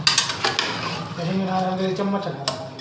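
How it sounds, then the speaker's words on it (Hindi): Metal spoon scraping and clinking around inside a cooking pot on a stove while tea is being made at home, a few sharp knocks then softer stirring, with a voice speaking in the middle. "चम्मच चला रहे।"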